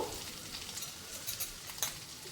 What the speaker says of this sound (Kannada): 1 ಟೀ ಸ್ಪೂನ್ ಆಗುವಷ್ಟು ಶುಂಠಿಯನ್ನು ಸಣ್ಣಗೆ ಹೆಚ್ಚಿ ಹಾಕ್ತಾ ಇದ್ದೀನಿ